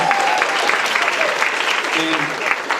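A high school audience at an improv night applauds a student, dense steady clapping filling the room throughout, with a few faint voices mixed in.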